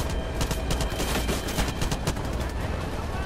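Dense, rapid gunfire fills a Far Cry 5 Hours of Darkness DLC firefight, loud sharp shots cracking in quick bursts almost continuously with no talking.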